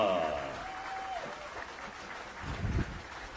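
Baseball fans applaud at a college Senior Day game, scattered clapping that swells briefly near the end, heard amid ambient stadium noise after a voice fades out.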